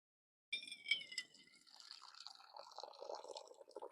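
Hot liquid is poured from a pot off a camp stove outdoors, a soft trickling and splashing stream that starts abruptly and continues steadily, close and fairly quiet.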